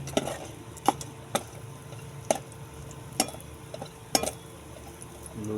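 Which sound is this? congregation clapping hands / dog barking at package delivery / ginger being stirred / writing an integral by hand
ginger being stirred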